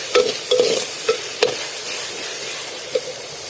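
Onions and tomatoes sautéing in a pan for a catla fish curry with mango, a soft steady sizzle broken by a few sharp spoon scrapes and stirs close by, with no talking.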